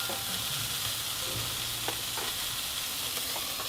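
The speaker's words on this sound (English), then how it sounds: "After adding some oil, cook the patty over medium heat for 1 to 2 minutes" A burger patty frying in oil in a pan over medium heat gives off a steady, soft sizzling hiss, with a few faint pops and crackles rising from it.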